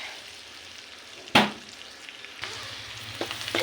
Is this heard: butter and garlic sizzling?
yes